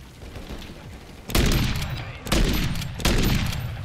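Gunfire in Call of Duty: Modern Warfare III, three sharp, loud shots or short bursts spaced about a second apart, each ringing out with a decaying tail over a low ambient background.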